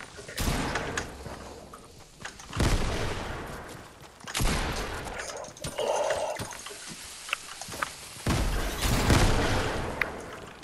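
Grenades go off in Fortnite as four or five heavy, booming blasts, each with a rumbling tail, spaced irregularly across the stretch with busy game noise between them.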